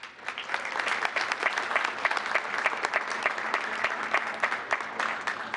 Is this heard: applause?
yes